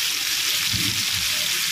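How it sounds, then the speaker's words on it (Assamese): Boiled jackfruit pieces fry in a little oil in a kadai, a dense steady sizzle with a brief soft bubbling thump in the middle, close and fairly loud, no voices. "অকণমান তেল দি এইখিনি কেৰাহীত ফ্ৰাই কৰি ল'ম কঁঠালখিনি"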